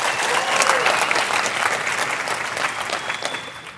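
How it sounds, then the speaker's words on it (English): An audience at a business event Q&A applauds steadily, a dense wash of clapping that holds loud throughout and eases off slightly toward the end. "Give it a clap up for these amazing mic runners."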